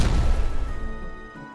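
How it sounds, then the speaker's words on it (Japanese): A core explodes in the video game Timberborn: one loud booming blast that rings out and fades over a second or so. "コアが爆発するぞー"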